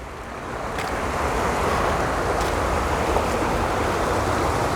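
Ocean waves wash in a steady, broad roar close by, with wind buffeting the microphone and no voices.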